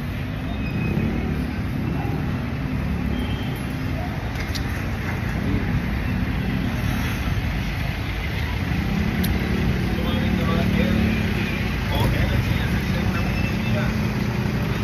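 Street traffic near a barangay center hums steadily, with engines idling and passing at moderate distance in a continuous, even wash of road noise.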